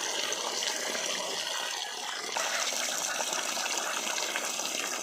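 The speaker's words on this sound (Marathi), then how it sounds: "आपल्याला दोन तीन पाण्याने तांदूळ स्वच्छ धुवून घ्यायचे" Steady rushing and splashing of water, like rice being rinsed under running water, continuous and close, with no voices.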